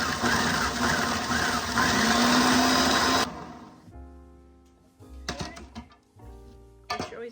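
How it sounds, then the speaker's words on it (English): A 1970s food processor whirs loudly as it chops biscuits, a dense continuous grinding for about three seconds before cutting out, followed by a few short pulsing bursts. "I've got them in my (1970s) food processor here"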